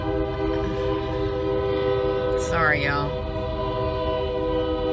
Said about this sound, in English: We're just going to get stopped by a train.